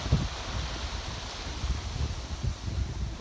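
Strong wind of a little over 20 knots gusts across a sailboat in an island archipelago, a low, rough rush that buffets the microphone in uneven surges with a faint hiss of water beneath.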